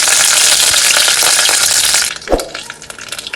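Broccoli dropped into a hot pan for a Kerala broccoli thoran, a loud steady sizzle of frying that breaks into a brief clatter and stirring as the florets go in, then settles into softer crackling.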